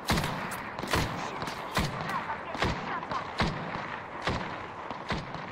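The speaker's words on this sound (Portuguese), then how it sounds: "Opa, tiro da direita, da direita, lá." Gunfire in the video game Apex Legends cracks out in sharp, repeated bursts at irregular intervals, some shots louder and closer than others, with a faint game background between them.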